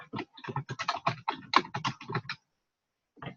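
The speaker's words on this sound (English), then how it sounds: "then literally you can just type" Typing on a computer keyboard, a quick close run of clicking keystrokes for about two and a half seconds, then a short pause before another brief burst of keys.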